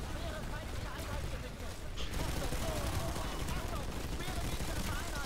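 Rapid gunfire bursts rattle through a battle in the online shooter Planetside 2, layered automatic shots and impacts running throughout while someone talks over the action.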